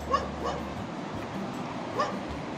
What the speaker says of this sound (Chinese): 小狗，你看，非常的热情的欢迎我的小狗